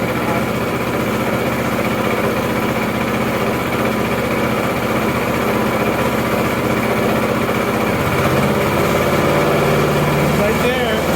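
An EFcut C30 small petrol engine runs loud and steady throughout, its pitch rising and falling slightly as the throttle is worked back and forth.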